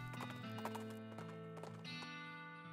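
Rapid clip-clopping hooves from a horse in the video game West of Loathing over a steady musical drone, with a short neigh near the start.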